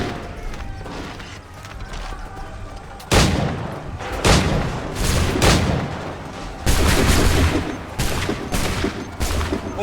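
Bursts of gunfire in the Assassin's Creed 3 video game, a volley of loud musket shots crackling in overlapping clusters, quieter at first and then heavy repeated blasts over several seconds.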